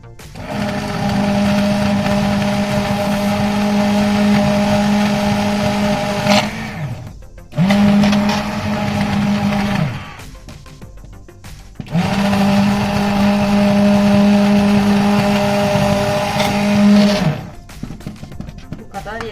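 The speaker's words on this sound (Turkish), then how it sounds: "blenderdan biraz daha geçirerek lezzetini tamamen suya vermesini istiyorum" A blender whirs loudly while blending apricots in three long bursts, its motor pitch steady, with short quieter pauses between runs.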